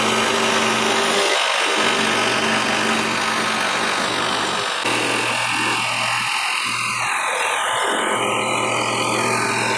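A clamped power drill cuts a guitar body shape from a wooden blank, giving a loud, continuous rasping, grinding whine with shifting pitch and short dips in load, close and alone.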